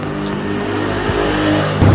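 A new motorbike's engine revs up close and loud, holding a steady roar that swells slightly toward the end, with no talking.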